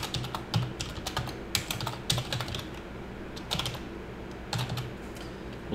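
Java code being typed on a computer keyboard, with quick bursts of close clicking keystrokes separated by brief pauses.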